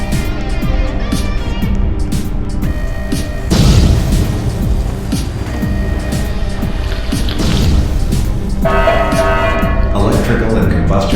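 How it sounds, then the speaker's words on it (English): A Roblox thermal power plant reactor core melts down and explodes: a loud, sustained roaring rumble with heavy booming surges, and a voice speaks intermittently over the din. "Explosion imminent."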